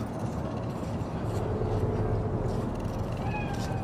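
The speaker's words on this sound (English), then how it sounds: "Do you see it? That cat?" A cat meows in the video game Cyberpunk 2077, set in a city street, its faint cries heard over a loud, constant rumbling urban ambience.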